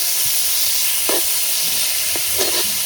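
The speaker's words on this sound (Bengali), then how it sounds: "এখন 2-1 মিনিট শাকটা বাইজে নিলেই কিন্তু রেডি" Helencha greens fry with green chillies in a pan, a continuous close sizzle and steamy hiss with a few brief scraping stirs.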